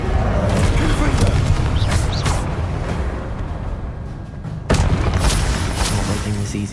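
A Confringo blasting spell in Hogwarts Legacy goes off as a string of loud booming explosions and whooshing bursts, with one sharp heavy blast near the end, under a voice calling out.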